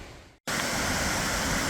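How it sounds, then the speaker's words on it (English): Tolmie Creek Falls, a creek waterfall on a forest hiking trail, gives a steady broadband roar that fills the clip after a brief cut near the start, loud and unbroken. "Creek falls out down below us"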